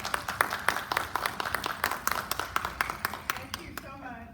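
Applause from an evening audience welcoming a guest speaker, a few distinct, fairly close rhythmic claps over quieter crowd clapping, tapering off as a voice begins at the end.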